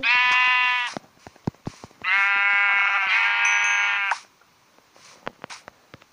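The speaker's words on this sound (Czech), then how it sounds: "teda zabiju ovci" Sheep in the Minecraft video game bleat loudly twice in long, nasal, wavering cries, with sharp clicks and taps between and after them.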